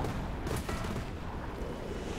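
Bomb blast in War Thunder tank combat, a loud explosive crack followed by a rumbling, noisy tail of battle sound.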